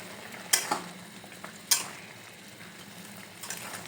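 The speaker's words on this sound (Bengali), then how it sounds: "এগুলো দিয়ে আমি আবারও ভালো করে একটু নেড়ে ছেড়ে মিশিয়ে দিয়ে দেব।" Fried tengra fish being stirred into a simmering ridge gourd and potato curry, with a few sharp scrapes of a spoon against the pan over a soft bubbling sizzle, close and alone without any voices.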